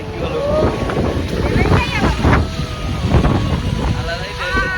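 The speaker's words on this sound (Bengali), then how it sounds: "আলাদাই লেভেলের হাওয়া দিচ্ছে," Strong sea wind on the beach at Puri buffets the microphone in loud, uneven gusts, with a person talking over it.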